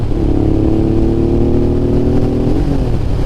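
A Honda NT650 motorcycle with a mild aftermarket exhaust revs steadily, its exhaust note rising in pitch and holding before dropping off, loud and close throughout.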